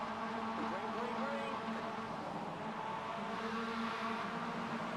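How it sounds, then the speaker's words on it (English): Mazda MX5 race cars at Donington idling and building revs together on the grid, a continuous dense engine drone at moderate distance with a commentator talking over it. "revs are building here then for the final time this evening"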